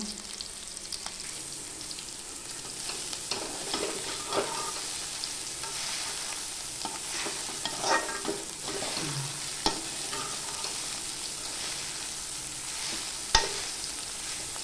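Fish frying in a pan nearby, a continuous soft crackling sizzle with scattered pops and occasional clinks of a spatula, fairly quiet and unbroken by voices.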